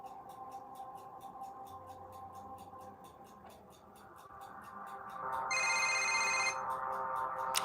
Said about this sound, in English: Here come the phone call.